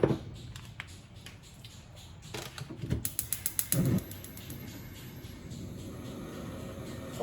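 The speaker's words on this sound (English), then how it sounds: "now I'm going to start the fire" A stove being lit under a cabbage and pork hotpot: a quick series of sharp igniter clicks near the middle, close and fairly quiet against a low background hum.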